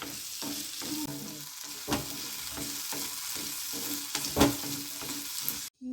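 Crushed turkey berries frying in oil in a pan, a close steady sizzle broken by repeated scraping stirs, no talk, cutting off abruptly at the end.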